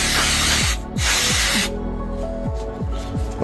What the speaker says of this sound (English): Proper carburetor cleaner and that's nothing stupid.